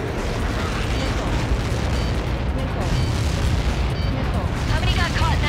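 A missile impact explosion in the Ace Combat 7 air combat video game is a dense, sustained roaring rumble of blast and debris, loud and continuous for several seconds with radio chatter mixed in.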